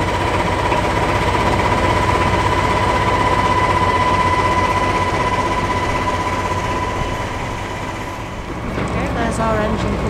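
A train stands at a station platform with a steady, loud mechanical hum and rumble and a sustained tone throughout, easing slightly near the end as people talk briefly.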